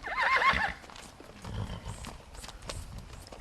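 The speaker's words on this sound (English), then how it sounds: "This is going to be a Blue Roan. This is a filly." A Foxtrotter filly foal, a future blue roan, gives a single clear high neigh near the start, loud and close, followed by quieter rustling and faint background sounds.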